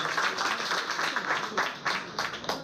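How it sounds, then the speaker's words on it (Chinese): An audience claps to welcome a speaker at a talk on China's railways, producing a brisk, continuous crowd applause with distinct, uneven hand-clap bursts throughout. "我们用掌声来欢迎王雷。"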